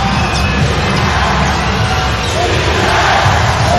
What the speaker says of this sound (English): Crowd again, just chanting defense.